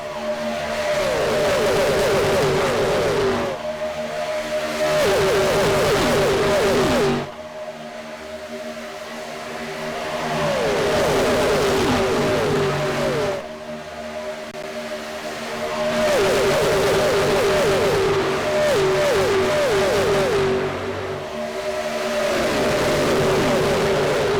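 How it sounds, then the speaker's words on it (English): Gen 4 race cars roar around Daytona, loud engine drones swelling and fading as packs of cars pass repeatedly, with high whining revs and brief drops between passes and no talk over it. "Turn up your TVs, turn up your phones, and listen to these cars roar."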